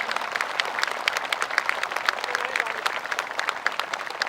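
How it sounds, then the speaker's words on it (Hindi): An audience at a yoga day ceremony of the Bhartiya Yog Sansthan claps steadily to welcome Professor R.N. Dubey, a moderate, continuous patter of many hands. "आप सभी लोग एक बार खड़े होकर प्रोफेसर आर.एन. दुबे जी का खड़े होकर सम्मान करें, स्वागत करें तालियों से"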